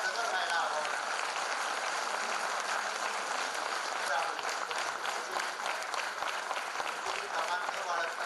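Sustained audience applause from a room at a teachers' workshop, a dense steady patter of clapping holding at even loudness throughout with no pauses.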